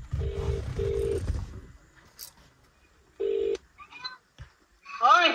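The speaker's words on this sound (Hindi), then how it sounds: "अभी मम्मी जी को फोन लगाते हैं यहाँ से" A mobile phone keypad sounds a quick run of dialing tones, then after a pause a short final beep, clear and close in a quiet shop setting in Darjeeling, followed by faint chirpy electronic sounds.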